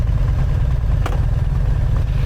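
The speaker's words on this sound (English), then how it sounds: "Now let's start off with turning on the bike." A big-engined BMW R 1300 GS motorcycle runs close by, a loud, steady low rumble that holds at an even idle throughout.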